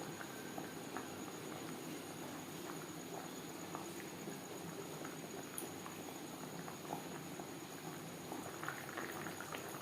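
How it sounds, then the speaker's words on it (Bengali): Hilsa fish curry with potato and eggplant simmering in gravy in a pot, a soft continuous bubbling and patter with faint scattered pops, quiet and close. "গ্রেভির সাথে মাছ আরও তিন চার মিনিট রান্না করবো"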